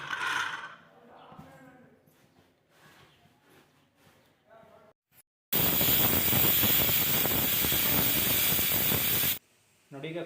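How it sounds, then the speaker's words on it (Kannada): A pressure cooker holding mutton saaru (mutton curry) lets off a loud, harsh jet of steam that hisses steadily for about four seconds. Quieter kitchen clatter and movement come before it. "ಕುಕ್ಕರ್ ಮುಚ್ಚಳ ಮುಚ್ಬಿಟ್ಟು 3 ವಿಷಲ್ ಕೂತ್ಕೊಳ್ಳಿ."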